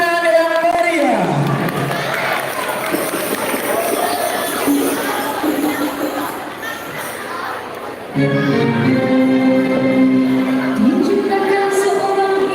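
Applause and cheering from a crowd at a school arts festival after a children's dance performance, a sustained noisy wash of clapping and shouts with a voice and music-like tones over it.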